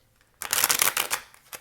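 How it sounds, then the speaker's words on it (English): A deck of tarot cards riffled in one quick shuffle, a close, crisp burst of papery flutter lasting about a second before trailing off into a light tap. "I'll do one more shuffle."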